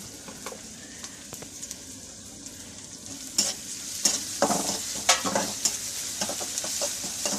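Ginger-garlic paste fries in a pan with a light sizzle, then louder scraping as a spatula stirs it in bursts, close and moderately loud, no talking.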